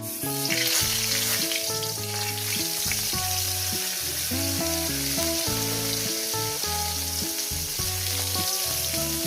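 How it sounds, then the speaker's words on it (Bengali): Eggplant slices fry in hot oil in a pan, giving a loud, continuous sizzle with crackling bursts, while music plays underneath. "আর একটু তেল নিয়ে যে তিনটে বেগুন আছে সেগুলো আমি ভেজে নেব"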